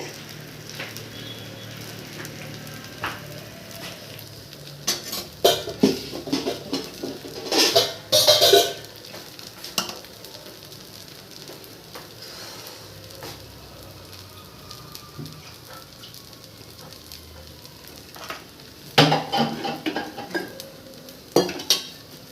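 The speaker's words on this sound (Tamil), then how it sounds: "இப்போது மறுபக்கம் தோசை வேகட்டும் மறுபக்கம் தோசை வேகிறது" Dosa made with balloon vine leaves cooking on a hot pan, a quiet steady sizzle broken by a few bursts of scraping and clinking from a spatula against the pan.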